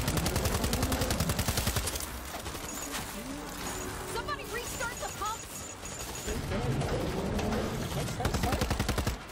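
Gunfire from a turret and weapons in the co-op zombie shooter World War Z: Aftermath, with rapid bursts and shots throughout, loud under excited talk from players.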